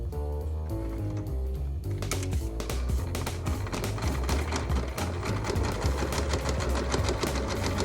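A sewing machine fitted with a zipper foot runs in a fast, steady stitching burst, loud and close, its rapid mechanical rhythm continuing throughout.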